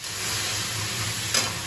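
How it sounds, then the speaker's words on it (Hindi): Chowmein ingredients frying on low heat in a pan, a steady close sizzle with a brief stir near the end and no talking. "कम आंच में फिर फ्राई कर रहे हैं।"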